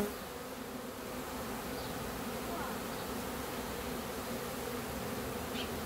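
Beehive relocation with smoke in use: a dense, steady drone of many bees buzzing close and continuously, with brief higher whines of individual insects passing near, and no talking.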